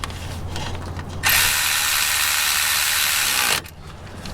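A power tool drives bracket bolts tight on an Infiniti G35 at a roadside repair: one loud, steady buzzing burst of about two seconds stops abruptly, with quieter mechanical noise before and after.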